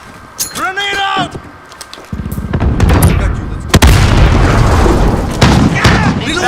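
A grenade blast in the video game Modern Warfare, a sharp loud boom followed by rumbling gunfire and battle noise, with a voice calling out and radio-like chatter at the start.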